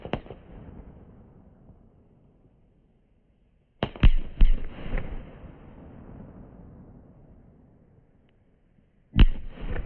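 Sharp blasts from a Weco Bloody Brilliant firework battery burst at the start, again around four seconds with a few quick follow-up bangs, and once more near the end, each trailing into a crackling rumble.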